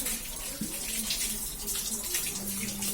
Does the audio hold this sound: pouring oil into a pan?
yes